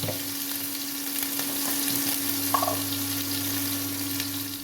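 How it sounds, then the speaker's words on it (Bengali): Prawns seasoned with turmeric and salt fry in hot oil in a wok, giving a steady, close sizzling hiss under a faint constant hum, with an occasional light stir. "তেল গরম হয়ে গেছে তার জন্য চিংড়িগুলোকে ভেজে নেব"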